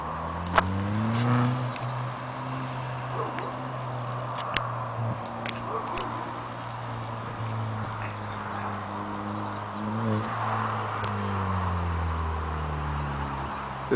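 An Audi A4 B7 car drives by with a low engine hum whose pitch rises and falls as it passes nearby. A few faint clicks sound, and nobody talks.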